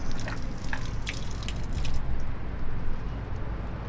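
Tap water runs and splashes while a camper van's water supply is being filled, making a close, wet dripping and trickling sound with scattered splashes.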